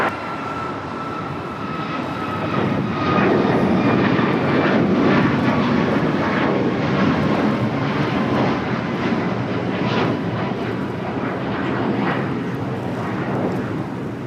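A jet airliner takes off at LAX, its engines building into a loud, sustained roar that swells and holds steady across the runway with no voices over it.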